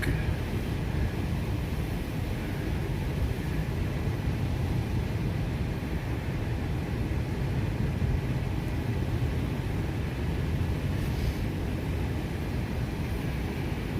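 Cars creep along a snowy stretch of Highway 38 in the morning, giving off a steady, continuous road rumble and tire hiss throughout, with no voices.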